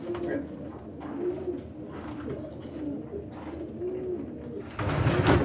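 Racing pigeon cooing in a loft, soft repeated low coos in a steady rhythm, close and gentle, with a brief louder rustle at the end.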